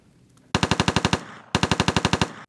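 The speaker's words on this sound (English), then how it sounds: "So that's like basic when I'm editing" Layered machine gun sound effect built for film editing: two rapid bursts of roughly eight loud, evenly spaced shots each, separated by a short pause, with no talking.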